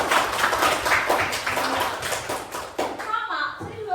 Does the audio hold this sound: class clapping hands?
yes